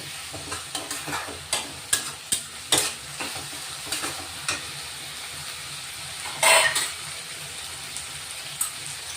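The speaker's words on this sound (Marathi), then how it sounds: "लसूण, अद्रक आणि मिरची वाटून घेतली ती आपण टाकून घेऊ आता" Ground garlic, ginger and chili paste go into a hot pan for a home-style prawn fry, giving a steady sizzle broken by sharp clicks of a spoon stirring, with one louder hiss near the end.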